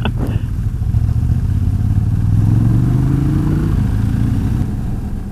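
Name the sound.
motorcycle engine on off-road ride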